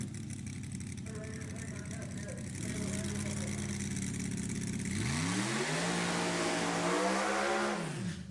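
A ProCharger-supercharged drag racing car idles and then revs hard, its pitch sweeping up and dropping back in a loud, close engine roar at a drag strip, with crowd noise in the background.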